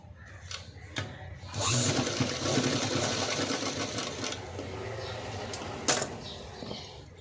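A sewing machine runs a stitch along the shoulder seam of a padded blouse, a close, busy whirring that starts after a few clicks and continues steadily, with brief knocks near the end.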